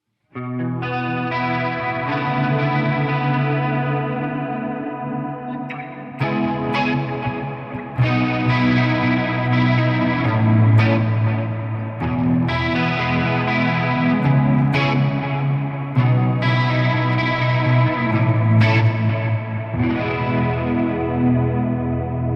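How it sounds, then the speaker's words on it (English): Electric guitar played through a chorus pedal, chords ringing out with a shimmering, warbling, swirling tone and a few pauses between phrases. "Great chorus sound."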